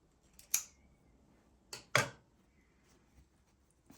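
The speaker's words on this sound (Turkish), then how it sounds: "Fazlalığı da kesiyorum." Scissors snip off the leftover ribbon ends after two knots are tied in the middle of a bow, with three short crisp cuts, two close together, in an otherwise quiet room.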